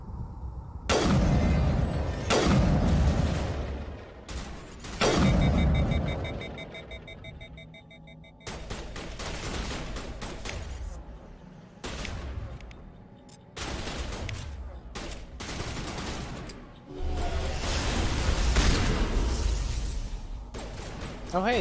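Shotgun blasts ring out in the video game Mass Effect, several loud separate shots spaced irregularly across the stretch, with beeping electronic game tones and brief talk in between.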